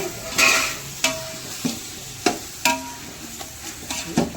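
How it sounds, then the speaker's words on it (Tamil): Tomatoes hit a hot frying pan with a soft sizzle, interrupted by several sharp scrape-and-clatter stirring strokes of a spatula at irregular intervals, close and moderately loud. "தக்காளி போடுறோம்."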